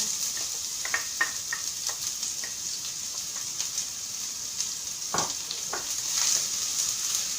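Onions fry in hot oil in a pan, giving a continuous soft sizzle with scattered crackles and a few stirring scrapes, close by and without talk.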